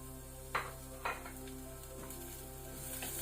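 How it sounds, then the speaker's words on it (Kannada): Onions and curry leaves frying in coconut oil in a clay pot, a soft continuous sizzle broken by two sharp scraping stirs and lighter taps, close but quiet over a low steady hum. "ಸ್ವಲ್ಪ ಕೆಂಪಾಗೋ ತನಕ ಫ್ರೈ ಮಾಡ್ಕೊಳ್ಳುವ."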